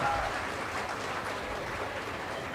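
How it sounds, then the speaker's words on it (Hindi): Audience at an Indian healthcare panel event clapping to welcome a speaker, a moderate, even patter of applause that stays fairly constant, somewhat distant in the hall. "एक बार जोरदार तालियों से डॉक्टर पारुल वडगामा जी का स्वागत"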